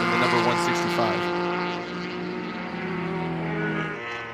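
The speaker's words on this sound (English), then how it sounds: "you hear the rev limiter as we go by, just past our sound stand here" Mazda MX-5 race car, number 165, at the SCCA National Championship Runoffs, engine bouncing off the rev limiter as it passes close by, a steady loud buzzing drone with stuttering pulses throughout.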